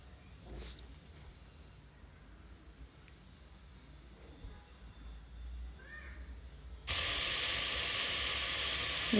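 Beans and carrots fry lightly in oil for paneer pulao: a quiet kitchen with faint clinks, then a sudden loud, steady hiss of sizzling that fills the last few seconds.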